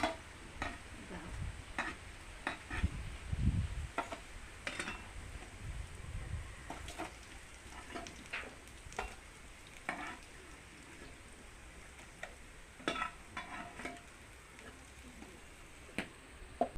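Shiuli leaf fritters frying in oil make a faint, continuous crackle, broken by scattered sharp taps and scrapes of a utensil against the pan at irregular intervals; no one speaks.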